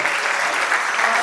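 A birthday celebration crowd claps for two families joined by marriage: a steady, close burst of applause from many hands, even in loudness throughout, with no talk over it.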